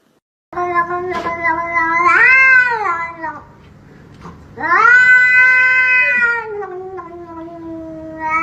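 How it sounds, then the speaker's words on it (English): Pet cat meows loudly several times, drawn-out and rising-falling calls close by, with short pauses between. "Can all the kitties in the club say meow?"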